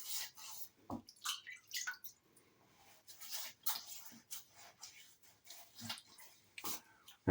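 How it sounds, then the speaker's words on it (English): Water splashed onto a face before a shave, with repeated soft splashes and drips near the microphone, spread out irregularly over several seconds and with no talking. "There we go, wetting up."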